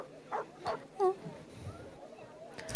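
Dogs bark in a video game set at a resort marina, giving a few short barks and yips spaced apart at moderate distance over a low ambient background.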